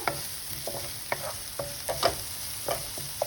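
Onion frying in a pan over medium heat, a steady low sizzle with scattered soft stirring scrapes and small pops spread across the few seconds, no talking.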